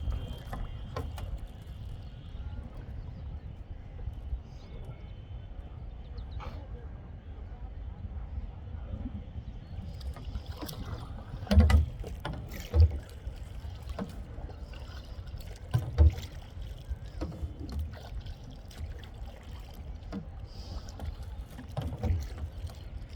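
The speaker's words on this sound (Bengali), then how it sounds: "এই সেই জায়গা যেখান থেকে আমরা নৌকা নিয়ে উঠলাম" A rowing boat moves across Diabari lake in Uttara, Dhaka, with soft water trickles and a few sharp oar knocks and splashes scattered through a long, quiet stretch, and faint voices in the background.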